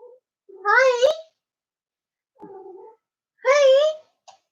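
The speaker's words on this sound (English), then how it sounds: "the cats are making their turkey noises" House cats give short, warbling, turkey-like meows, two loud drawn-out calls with a softer chirp between, close up in a quiet room.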